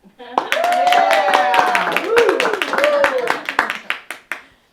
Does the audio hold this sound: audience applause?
yes